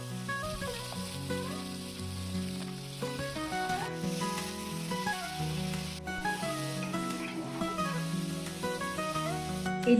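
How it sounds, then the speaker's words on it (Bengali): Prawns fry in hot oil in a kadai, giving a continuous, even crackling sizzle at moderate volume with faint tonal sounds in the background and no talking. "এদিকে চিংড়ি মাছ ভাজা কমপ্লিট"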